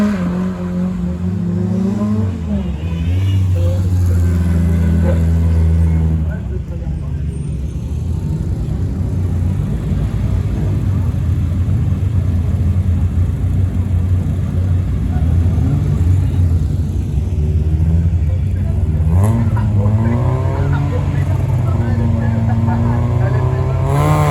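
A Peugeot 106 S16 rally car launches at the start of a competitive run, its engine revving hard through rising and falling gear changes, loud and close, while a commentator speaks over it.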